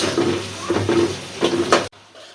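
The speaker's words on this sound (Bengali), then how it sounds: "পেস্টটা আদা আদা ভাজা ভাজা হয়ে গেছে" Ginger garlic paste fries in a pan for a fish curry, with a steady sizzle, scraping stirs from a utensil, and a few metallic knocks against the pan before the sound cuts off abruptly.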